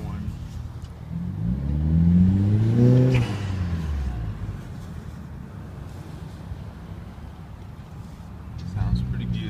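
2012 Nissan Juke with a CVT and a Synapse diverter valve, its engine revving up to a loud peak and then dropping away, with a second rev starting at the end.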